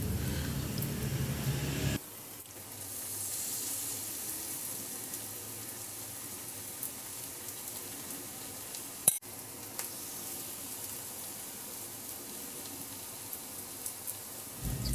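Scoops of tuna patty mixture drop into hot oil in a pan. A soft, steady sizzle and crackle follows, fairly quiet, with a sharp tap partway through and no voices.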